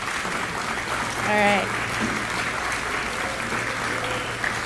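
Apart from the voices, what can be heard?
audience applause for art students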